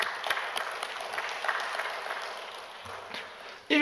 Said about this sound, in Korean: 오늘 우리 한번 박수 한번 하겠습니다.